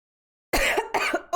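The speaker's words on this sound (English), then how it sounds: "I haven't coughed in so long." One person coughs twice in quick succession, close and fairly loud, after a short silence.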